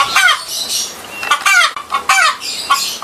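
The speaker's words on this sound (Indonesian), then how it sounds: "ada seekor ayam" A chicken clucks in rapid, loud bursts close by, a run of sharp squawking calls repeating several times with brief gaps, with no talk over it.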